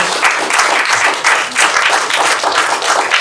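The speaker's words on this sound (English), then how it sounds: "Let's give everybody a round of applause." Dense, sustained applause from an audience cheering an events team, a steady wash of many clapping hands at close range for the full stretch without pause.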